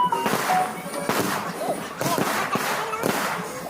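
New Year fireworks go off at midnight in a rapid run of sharp booming bangs and crackles, several bursts each second, loud and fairly close.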